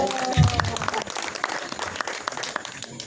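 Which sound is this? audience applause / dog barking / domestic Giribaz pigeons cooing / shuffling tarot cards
audience applause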